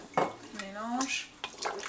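Spoon scraping and clinking against a pot while beef broth is stirred in, a few short metallic strokes up close with brief gaps between them.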